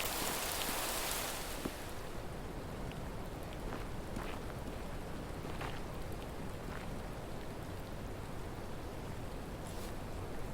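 Continuous rain falling in the game Rising World, a dense, even hiss with scattered drop patters, loud and unbroken with no voices over it.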